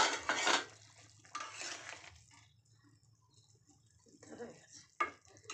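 A metal lid lifted off a pot of boiling potatoes, two loud clattering bursts of metal on metal, then quieter clinks and a final sharp knock, heard up close.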